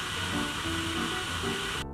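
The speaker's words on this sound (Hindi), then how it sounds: "इनके पंखे इतने लाउड हैं कि आपको वो म्यूजिक के अंदर सुनाई देते हैं" Small cooling fans built into a headphone visor blow a steady, loud airy hiss that runs almost without a break, then cut out abruptly near the end.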